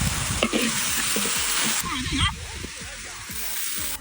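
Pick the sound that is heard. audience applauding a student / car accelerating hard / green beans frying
green beans frying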